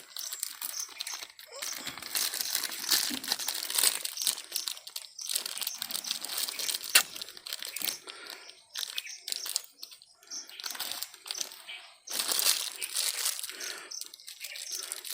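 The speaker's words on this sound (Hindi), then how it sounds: "इसके ऊपर एक पन्नी को लपेट देते हैं इस तरह से और यहाँ पर धागा से बांध देते हैं।" A transparent plastic sheet wrapped around a lemon branch for air layering, producing continuous close crinkling and rustling of the film with short gaps.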